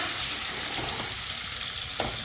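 Garlic sizzles steadily in hot oil for a saag tadka for sarson ka saag, a close, even crackle with occasional stirring scrapes.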